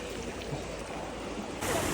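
The river at Dubare flows steadily with a broad, even rushing wash, close and continuous, rising a little louder near the end, with no talk.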